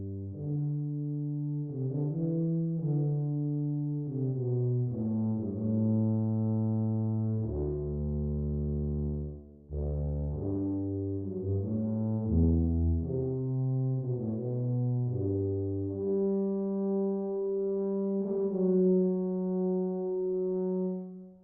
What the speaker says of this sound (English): just listen to the tone of this tuba here